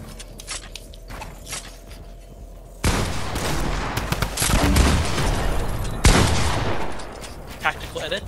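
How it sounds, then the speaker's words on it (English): Rapid gunfire in the game Fortnite, bursts of automatic shots hitting builds, starting lighter then turning into loud sustained firing with sharp clusters of shots, close and continuous. "Shooting builds is a distraction."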